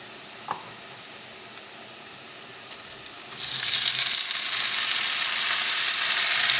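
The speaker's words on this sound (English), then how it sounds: "Now I'm going to go ahead and add the tomatoes in." Tomatoes added to a hot frying pan for mo:mo filling; after a quiet stretch with a small clink, a loud hissing sizzle bursts in and holds steady close by.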